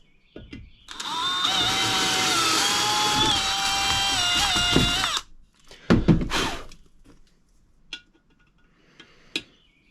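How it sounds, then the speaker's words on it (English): A power drill whines steadily for about four seconds, drilling a hole during transmission repair on a 2017 Polaris General, its pitch dipping under load, then stops, followed by a few clanks and scraping handling noises. "We'll just guess at what size hole to drill."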